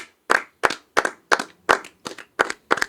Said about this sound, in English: Let's give a round of applause to George and Mike for building this desk